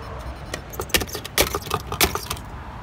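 Car keys jangle repeatedly in a series of bright metallic rattles while someone tries to open a 2014 Jeep Cherokee, loud and close with no talking.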